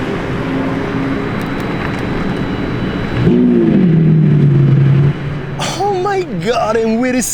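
A Lamborghini Revuelto SV starting up and revving, a loud engine burst followed by rising and falling revs close by, with excited talk over it.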